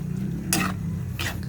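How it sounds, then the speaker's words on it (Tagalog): Pancit Marinduque with meat and shrimp is stirred in a pan, giving two short scraping sweeps over a low, steady background hum. "Ayan, so haluin po natin."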